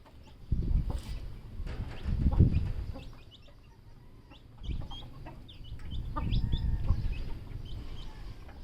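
A backyard chicken flock clucks in summer, with close, moderately loud bursts of clucking and squawks rising and fading in several waves over a quiet background, and no talking.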